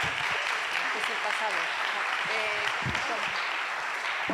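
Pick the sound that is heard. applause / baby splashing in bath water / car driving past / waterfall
applause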